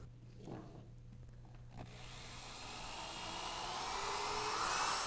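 A drill with a Fuller Type C countersink bit boring pilot holes into hardwood flooring, a whirring grind that starts faint and swells into a loud, rising rasp over several seconds.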